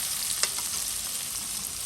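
Beresta onions frying in a pan for beef haleem, a steady close sizzle and crackle with faint stirring scrapes, no talking.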